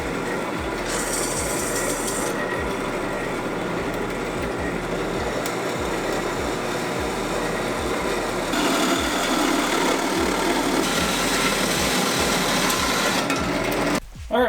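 Vertical bandsaw cutting through a metal U-bend pipe, a steady grinding rasp with a regular rhythmic ticking of the blade, loud and close, running continuously without talk.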